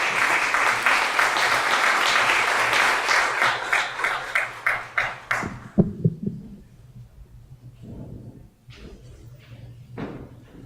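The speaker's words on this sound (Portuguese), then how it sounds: "uma salva de palmas" An audience claps steadily for several seconds, then the applause thins out and stops, leaving a quiet room with a few knocks.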